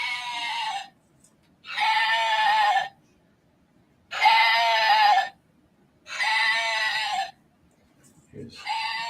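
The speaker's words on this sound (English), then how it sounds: "this is Rosa the sheep" Rosa the sheep bleats four and a half times in long, loud, strained calls close by, each about a second long and separated by roughly equal pauses of quiet.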